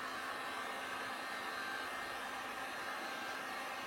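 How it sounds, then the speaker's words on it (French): A heat gun or hot-air blower runs steadily and loudly throughout, warming a plastic plate evenly until it softens for shaping a DIY upper limb prosthetic socket, with no talking. "Donc là on vient chauffer de manière homogène la plaque jusqu'à temps qu'elle se ramollisse."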